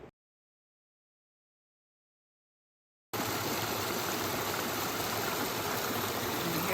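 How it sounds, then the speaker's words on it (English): After a few seconds of silence, a steady rush of flowing water sets in, close and continuous, like a small stream running under a hiking trail. "Here's my first water source of the day. Runs right under the trail."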